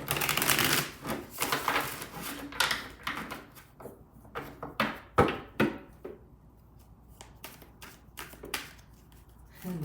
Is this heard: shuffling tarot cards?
yes